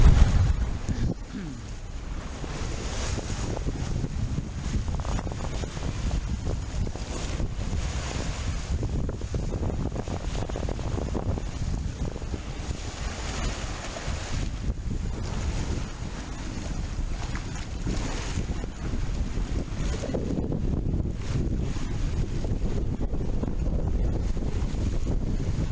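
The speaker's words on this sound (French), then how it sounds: "ça bouge un petit peu. Il y a du vent bien sûr." Steady wind roars across a boat at sea off the south coast of Isla de los Estados, with continuous low rumble and wash of waves against the hull, no voices.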